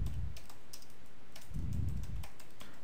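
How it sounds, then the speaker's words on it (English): Typing on a computer keyboard while entering text into a web form, heard as two soft bursts of quick, close keystroke clicks at a quiet level with no talking. "now I can type here telling like strong password"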